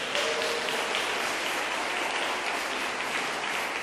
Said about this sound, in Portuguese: Quem testifica, dá uma salva de palmas para Jesus.